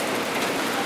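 Heavy rain falls on the Tour du Mont Blanc mountain trail near a hut, a dense, constant hiss of drops that stays loud and close for just under a second.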